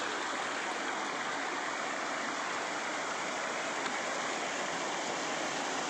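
A waterfall drops from above on a trekking trail, making a steady, loud, unbroken rush of falling water with no pauses.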